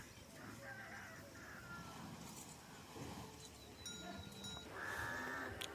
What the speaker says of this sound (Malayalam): ഒരുപാട് ആടുകളുണ്ട്